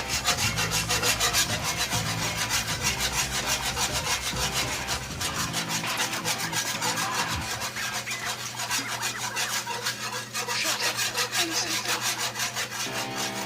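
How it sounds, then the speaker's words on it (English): A whisk stirs seafood gumbo in a pot with a close, steady, rhythmic scraping and rasping against the pot that continues without pause, and no voices over it. "I'm going to go ahead and keep stirring, and I'll be back when I think it's right"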